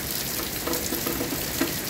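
Hurricane Milton sends steady wind and rain, a dense continuous hiss with scattered patters and no talking.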